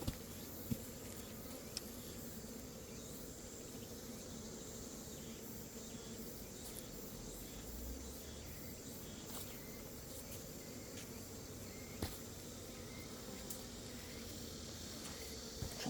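Asian honeybees hum around a hive in an apiary, a faint, continuous buzzing drone with occasional small clicks and no talking.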